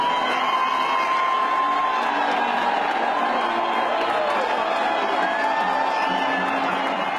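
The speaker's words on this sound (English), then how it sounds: "he received a big ovation" A big outdoor crowd cheering and whooping in ovation for a public figure on a balcony, a dense sustained roar with scattered shouts throughout.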